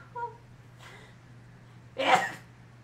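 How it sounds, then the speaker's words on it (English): A single sharp sneeze bursts out near the end, close and fairly loud, after a short vocal sound and a faint breath, over a steady low background hum. "Oh, I gotta sneeze."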